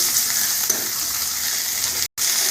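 Minced mutton keema fries in a pan, a steady loud hiss of hot oil with a faint scrape of stirring, broken once by a brief gap.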